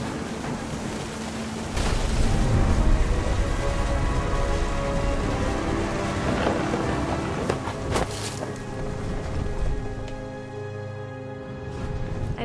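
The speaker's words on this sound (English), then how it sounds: "The thunder sounded much too close and full of angry power." Stormy weather in What Remains of Edith Finch: steady, loud rain and wind wash over the whole stretch with a deep rumbling low end and a few sharper bursts, with no voices.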